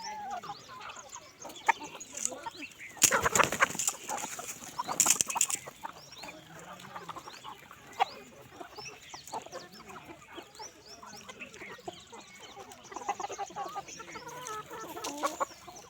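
Desi gavran chickens on a poultry farm cluck and peck while eating rice outside their shed, a busy overlapping chatter of close and distant clucks with a brief louder flurry of activity.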